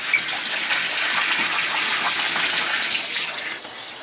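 Water pours steadily from a large rainfall shower head in a house on well water, a loud, continuous broadband hiss and splatter that holds for most of the moment and eases slightly near the end.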